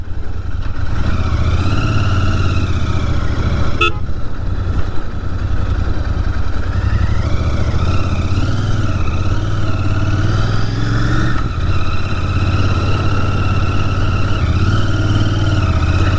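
A Royal Enfield GT 650 motorcycle engine drones loudly and steadily while riding, its pitch rising and falling with throttle changes, with no talking.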